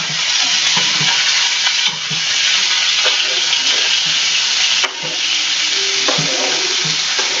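Beef chunks sear in a hot pan with a loud, steady, hissing sizzle that fills the clip, broken by occasional pops and brief shifts as the pieces are moved.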